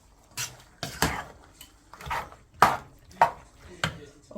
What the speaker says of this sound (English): So I'll be adding both into the pot. Stir that together.